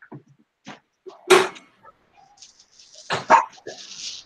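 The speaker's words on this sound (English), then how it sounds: "These dogs are horrible." Several dogs bark in short, sharp bursts, with two loud barks standing out among quieter yips and whimpers, close by and with no talk over them.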